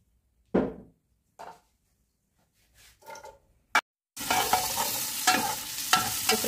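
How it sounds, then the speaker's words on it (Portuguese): A few soft taps and clatters, then bacon hits a hot pan with olive oil and sizzles loudly and continuously. "Vou fritar o bacon aqui,"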